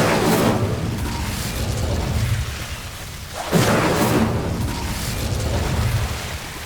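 Incendio fire spell cast in Hogwarts Legacy, two whooshing, roaring flame bursts with a crackling rumble, the second sharper and louder, with no talk.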